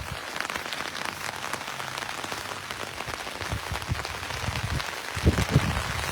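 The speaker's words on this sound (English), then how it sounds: "the rain is picking up. It's pretty bad out here" Heavy rain pours steadily outdoors at a reality-competition campsite, a dense constant patter across the whole stretch, with a few louder nearby drop impacts near the end and no voices.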